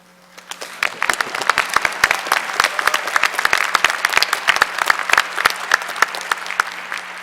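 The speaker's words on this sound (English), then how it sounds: "we deserve applause for that" Audience applause at a university commencement ceremony, a dense crowd of clapping hands that swells in after a quiet start and holds steady and loud to the end.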